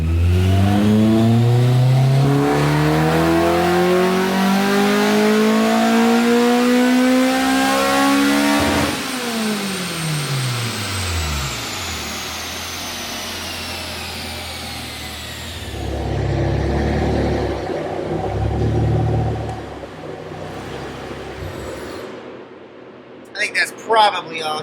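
Honda K20-swapped EG hatchback running on a dyno, the engine revving hard through a long pull with rising pitch, then dropping off and idling with some chatter, loud and close.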